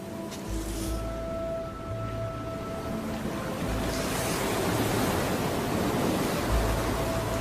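Surf washing onto a beach in Sri Lanka where sea turtles come ashore to nest, a steady broad wash of breaking waves throughout with no voices, a faint tonal hum running underneath.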